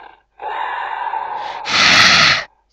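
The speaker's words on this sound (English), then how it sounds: "Someone's breathing." Heavy, close breathing from Haunted House Massacre, a drawn-out breath followed by a louder, harsher gasp-like exhale that cuts off abruptly, heard alone without talk.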